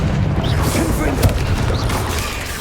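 A Confringo blasting spell exploding during Hogwarts Legacy combat: a dense, continuous rumbling blast with crackling debris, loud and sustained under a voice calling out.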